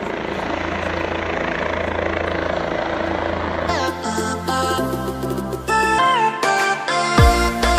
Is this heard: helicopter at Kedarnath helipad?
yes